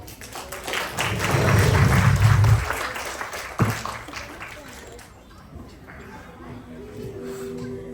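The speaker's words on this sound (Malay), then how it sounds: "Mari kita sambut bintang kecil ini dengan tepukan yang gemuruh" An audience at an Islamic recital event breaks into applause to welcome a child performer about to tell a story, the clapping swelling then fading under a low hum with some talk mixed in.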